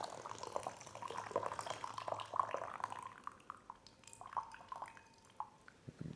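Brewed coffee is poured into a decanter, a soft, faint trickle with irregular drips and splashes, close by and quiet throughout.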